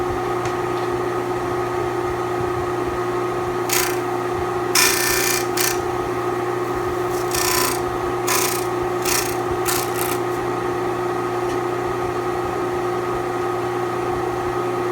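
Intermittent rasping strokes of hand sanding on a wooden zero clearance table for a scroll saw, several short bursts over a steady background hum, close by.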